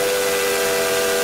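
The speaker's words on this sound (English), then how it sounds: "He blew his three-chime steam whistle as loudly and as boomingly as he could." A three-chime steam whistle on a cartoon steam engine sounds one sustained, loud, breathy chord, steady and hissing throughout the short burst with no talk over it.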